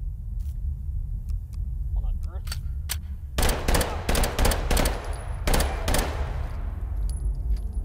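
Machine pistol fire in the VR shooter H3VR: a few early single shots followed by rapid bursts of sharp, loud reports in quick clusters, with low rumble underneath.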